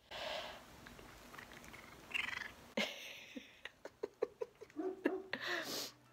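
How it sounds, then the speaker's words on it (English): A contented pet cat at home purrs softly near the start, then makes a run of short, close chirping meows and vocal bursts, each one distinct. "He's a happy, happy cat."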